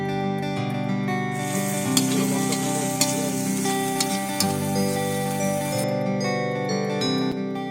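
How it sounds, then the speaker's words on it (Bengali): Onions frying in a kadai over a wood fire at an outdoor picnic, a moderate hiss and crackle that swells in the middle, with faint ticking and a low background hum. "এখন দেখতে পাচ্ছেন এখানে কড়াইয়ে পেঁয়াজ ভাজা হচ্ছে"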